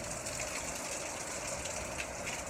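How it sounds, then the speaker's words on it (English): Strong Hurricane Irma winds roar in a steady, dense rush of air with a watery hiss, loud and continuous throughout, with no voices. "High winds coming through, but not like the ones that came through a minute ago"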